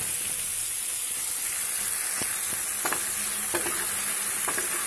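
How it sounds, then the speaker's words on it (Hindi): Tomatoes hit frying onions in a pan for chana chaat masala, giving a loud, continuous close sizzle with a few scraping stirs and no voices. "प्याज फ्राई होने के बाद इसके अंदर टमाटर को डालते हैं।"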